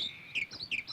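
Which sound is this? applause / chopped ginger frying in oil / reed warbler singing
reed warbler singing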